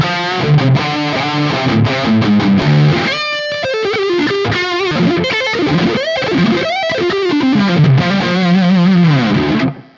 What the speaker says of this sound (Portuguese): Olha só que legal o som da guitarra.